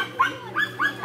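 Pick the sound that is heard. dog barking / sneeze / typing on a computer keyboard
dog barking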